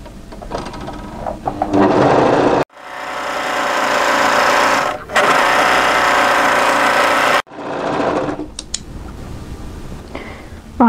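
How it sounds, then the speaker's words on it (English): An overlocker stitches a curved fabric edge in two long, steady whirring runs separated by short pauses, loud and close, with no talk. "I'm going to overlock the curve, then I'm going to press it and stitch it into position."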